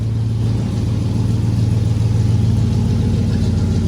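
A car engine with its mufflers removed and only catalytic converters fitted runs with a loud, steady, deep rumble close by, with no voices.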